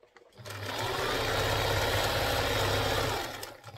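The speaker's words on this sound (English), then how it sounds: "So now let's sew. You sew it 1/2 inch. Take it gradually." A sewing machine stitches a side pocket onto a pair of pants along a half-inch seam. It runs as one steady, close, loud mechanical whir for about three seconds, then stops.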